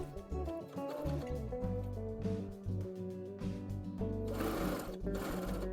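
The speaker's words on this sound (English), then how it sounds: "I thought it'd be a good idea to use a basting stitch to sew it together" A sewing machine runs a basting stitch through a dress, its steady mechanical whir and rapid needle clatter continuing throughout, with brief shifts in speed and no talking.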